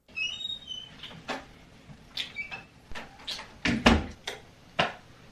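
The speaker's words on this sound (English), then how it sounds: "Someone's knocking at my door." Several sharp knocks on a home door, irregular and fairly close, spread across a few seconds with no talking.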